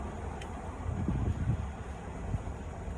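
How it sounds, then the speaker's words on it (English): Wind blows outdoors as a steady, low rumbling buffet across the microphone for the full few seconds, swelling slightly midway, with no voices. "The card's going to keep falling because it's windy out here"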